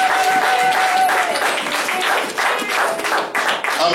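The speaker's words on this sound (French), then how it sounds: "Donnez-lui les acclamations" A church congregation breaks into applause and cheering, dense clapping mixed with raised voices filling the room for a few seconds.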